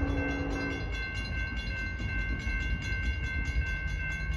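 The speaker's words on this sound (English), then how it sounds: "Looks like another trash train." A Norfolk Southern freight train hauling trash cars rolls past at a steady, continuous rumble, with a faint sustained horn-like tone and light wheel clatter throughout.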